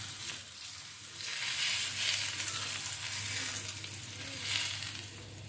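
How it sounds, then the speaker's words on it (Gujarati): Hot ghee poured over minced garlic, giving a close, faint, steady sizzle and crackle that swells and eases in waves. "હવે એક સાઈડ પર જે ઘી ગરમ થઈ ગયું છે એને આપણે એના ઉપર નાખી દઈશું."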